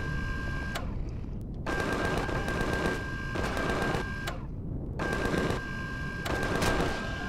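Sustained rapid gunfire in the Empyrion Galactic Survival video game, dense automatic bursts aimed at the player, loud and continuous with brief pauses between long strings of shots.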